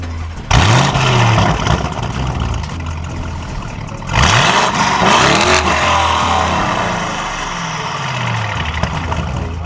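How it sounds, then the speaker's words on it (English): Lamborghini Urus engine firing on a cold start, a loud burst of revving that settles into a steady rumbling idle, then a second sharp rev blip around midway before easing back down. "So let me give you a quick cold start"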